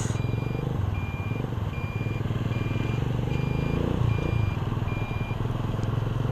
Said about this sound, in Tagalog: traffic na naman po dito sa Balagtas.